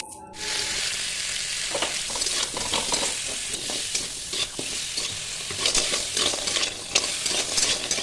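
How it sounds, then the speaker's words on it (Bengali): Cut crab pieces fry in a pan with salt and turmeric, giving a steady loud sizzle broken by scraping stirs, with no talking. "এরপর কাঁকড়াগুলোকে ভেজে নিতে হবে একটু নুন আর হলুদ দিয়ে।"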